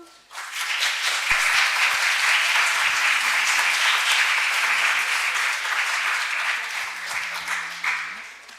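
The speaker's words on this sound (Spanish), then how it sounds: "creo que se merecen un aplauso" Steady, full audience applause at a conference day on applied and persuasive video games, swelling quickly and holding loud and even for several seconds before tapering off.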